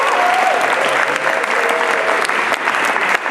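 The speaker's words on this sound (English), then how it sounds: "give them a round of applause" Loud, steady audience applause fills the room at an arts event celebrating a large overhead installation, with dense clapping sustained throughout and no pauses.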